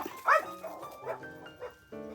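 A dog gives a few short, close barks and yips indoors, spaced irregularly across two seconds.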